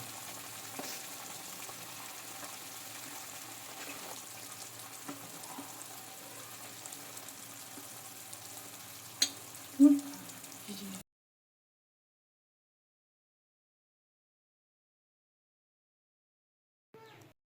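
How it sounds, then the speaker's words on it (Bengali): Egg gravy with fried eggs simmers in a pan on a gas stove, a faint steady bubbling hiss with a couple of small knocks before it cuts to silence. "গ্রেভিটা ফুটতে শুরু করেছে"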